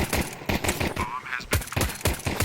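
Pistol gunfire in a Counter-Strike 2 match, rapid sharp shots in quick bursts with a brief lull between volleys, loud and close, with faint voices mixed in.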